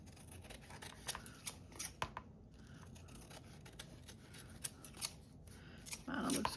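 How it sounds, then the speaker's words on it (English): Scissors snip by hand through paper packaging scraps, a run of quick, close, fairly quiet cuts spread irregularly across the clip, with a short rustle of paper near the end. "I'm going to hand trim it for now."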